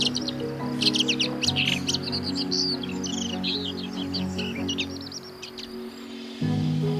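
A male red-backed shrike sings a soft babbling song full of imitations of other birds, rapid high chirps and twitters running for several seconds over a low steady background hum.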